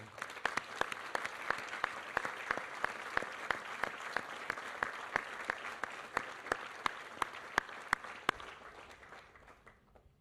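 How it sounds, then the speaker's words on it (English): A room full of people applauds steadily for about ten seconds at a military change of command ceremony, with a few sharp nearby claps standing out before it tapers off. "we'd at least like to recognize you with a round of applause"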